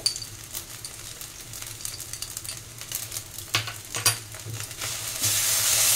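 Tomato sauce poured into Chinese-style bread upma frying in a pan, a soft sizzle under scraping spoon strokes and clinks against the pan, the frying growing louder and hissier toward the end.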